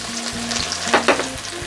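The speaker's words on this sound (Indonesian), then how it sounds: "Saya tumis terlebih dulu bawang putih yang sudah diiris tipis." Thinly sliced garlic sautéing in oil in a pan, a close, busy sizzle with crackles and a couple of stirring scrapes, heard alone.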